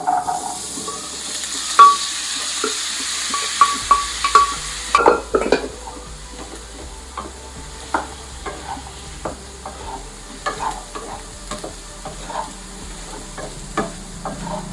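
Cooked chickpeas dry-frying in a pan are stirred with a spoon, giving repeated scraping and clacking strokes over a soft steady sizzle, close and fairly loud.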